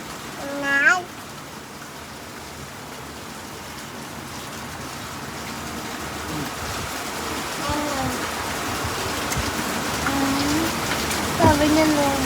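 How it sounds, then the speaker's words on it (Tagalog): Steady rain falls throughout, a dense continuous hiss that swells slightly toward the end, with a few brief voices and sounds breaking in near the start and again near the finish. "Ulan."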